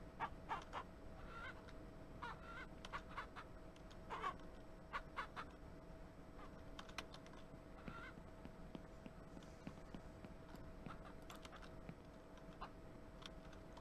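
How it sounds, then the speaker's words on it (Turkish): Chick peeping in the ranch farming game Ranch Simulator, faint high chirps scattered among clucking fowl and soft clip-clop sounds over a quiet steady background. "Oğlum ben bir civciv sesi duydum."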